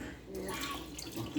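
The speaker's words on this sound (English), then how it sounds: "I still got too much water in the can, in the mixed vegetables. Pour some of that out." Liquid from a can of mixed vegetables pours out in a continuous, close, splashing trickle, fairly quiet, in a home kitchen with faint background noise.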